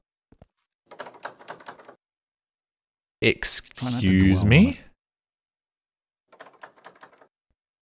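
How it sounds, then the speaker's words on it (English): The Half-Life 2 door sound effect in a corridor, a loud mechanical clank and a grinding, sliding rumble lasting about a second and a half, set between quieter clacking sounds, with a brief spoken line nearby. "That's the Half-Life 2 door sound effect."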